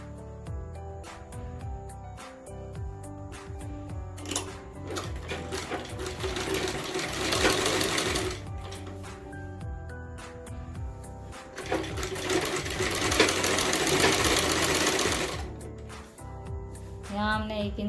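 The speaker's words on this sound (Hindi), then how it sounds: "डबल फोल्ड करके सिलाई लगा देंगे।" Sewing machine stitching a double-folded hem on a wide, flared salwar, running in steady bursts with brief pauses between them. Close and fairly loud, with no talking.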